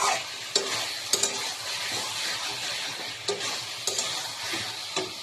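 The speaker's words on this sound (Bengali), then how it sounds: "ডিমটা ভালো করে নেড়ে দিলাম" Egg being stirred in a pan during the making of a rohu fish curry with potato and cauliflower, producing a soft frying hiss broken by several sharp spoon taps and scrapes against the pan.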